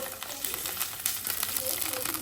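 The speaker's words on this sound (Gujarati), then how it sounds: "જીરુંનો વઘાર નથી કર્યો અજમાથી કર્યો છે વઘાર" Hot oil sizzles and crackles steadily as carom seeds are tempered, a constant frying hiss close up.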